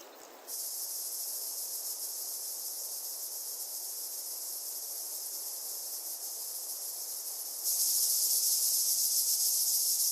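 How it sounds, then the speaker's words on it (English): Cicadas sing in the midday heat of the steppe, a continuous high, hissing drone that holds steady and then swells louder near the end, with no other sounds present. "In the midday heat, cicadas take the lead in the concert of the steppe."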